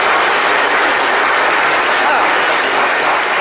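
A studio audience on a live French TV show bursts into sustained applause, a loud, dense wash of clapping that fills the whole stretch without a break.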